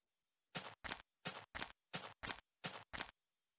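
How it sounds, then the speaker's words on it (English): Minecraft footsteps on grass in a video game: eight soft, crunchy steps in a steady, evenly paced rhythm, quiet and alone against silence. "That's the Minecraft walking on grass sound effect."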